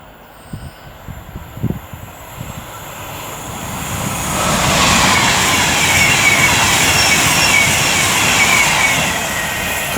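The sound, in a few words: Avanti West Coast class 390 train passing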